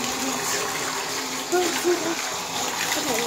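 Hot tap water gushing steadily into a giant water balloon, a continuous rushing flow with faint gurgles, close by and loud throughout.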